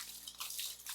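Hot water being poured or run for a homemade tile grout cleaner mixed with rubbing alcohol and soda crystals, a steady close splashing wash that carries on through the full second with no voices.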